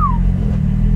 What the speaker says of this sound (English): You can finally hear that 4-litre.